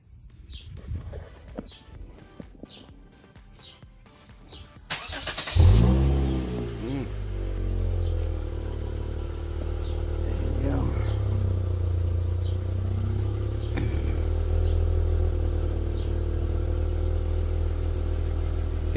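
Lexus RC350 with an Invidia Q300 exhaust fires up after a few seconds of quiet, then settles into a loud, steady rumble with several brief revs rising over the idle; faint birdsong sits underneath.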